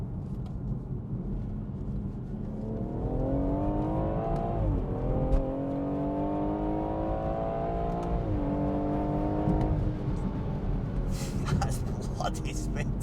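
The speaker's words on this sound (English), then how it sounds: "organic, straight-6 turbo noise out the back" A stock BMW M140i's straight-six turbo engine revs up and holds a rising, throaty drone from the exhaust, easing off and climbing again, loud and close, with brief clicks near the end.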